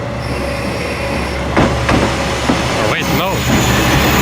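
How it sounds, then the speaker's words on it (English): A train on Japan's rural Geibi Line rumbles past close by with rhythmic wheel clatter and squealing metal, and a person speaks briefly over it. "there's another train coming."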